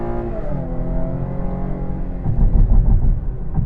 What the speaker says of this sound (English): we're gonna launch this car twice, once in normal drive mode and once in sport mode